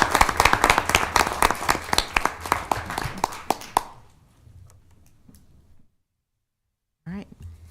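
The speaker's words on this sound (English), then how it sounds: "another round of applause for our winners" Audience applause for award winners at a city council meeting in Lincoln: dense, loud clapping for about four seconds, then it trails off into quiet room noise before a voice starts.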